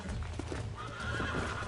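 A horse in the video game Red Dead Redemption, with a brief whinny over rapid clip-clop hoofbeats and low rumbling game sound in a short burst.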